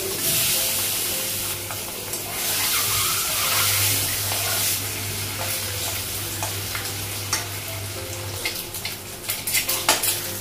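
Eggs fry in hot oil in a pan with a continuous loud sizzle, punctuated near the end by scraping and clinks of a utensil against the pan.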